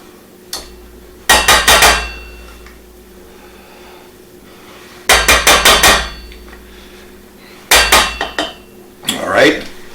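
A metal pan handled on a kitchen stove, three loud bursts of rapid clanking and knocking spaced a few seconds apart, with quiet pauses between.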